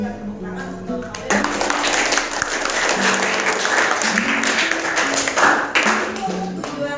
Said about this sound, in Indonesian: Mari kita berikan tepuk tangan untuk Haulil.